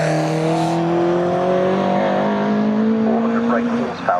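Race cars at Snetterton circuit in a CSCC Open Series race including Volkswagen Golf Mark 1s and a 400 brake horsepower turbo Volkswagen, engines droning and rising in pitch as cars pass, with a commentator speaking over them.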